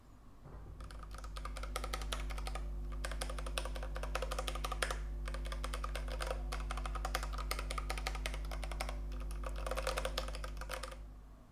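Rapid typing on a plastic-cased Ducky One 3 mechanical keyboard resting on a table, dense bursts of close key clicks with brief pauses between runs, over a steady low hum.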